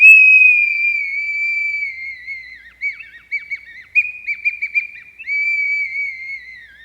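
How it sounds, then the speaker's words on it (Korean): A black-bamboo ojuk piri whistle, a Korean folk whistle worn on a neck cord, blown close by in a sustained shrill high tone that breaks into several short chirping bursts midway before holding steady again, with no voices. "오죽피리를 여러분들을 위해서 불어드려요"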